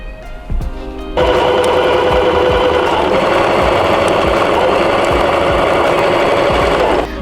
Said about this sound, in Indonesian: kita jahit dari ujung sini melewati titik tengah, langsung dilanjutkan sini sampai ujung ya teman-teman